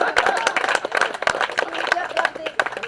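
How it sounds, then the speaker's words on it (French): Audience applause at a baptism party during a hypnosis act, uneven rhythmic clapping from a small crowd mixed with loud nearby talking and laughter. "Je voudrais qu'on l'applaudisse pour le pourboire"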